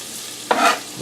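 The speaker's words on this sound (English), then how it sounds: "I'm going to grab my onions and my peppers and just put them into this pan." Onions and peppers dropped into a hot buttered pan, a sudden close burst of sizzling that swells for a moment then settles, with no talking.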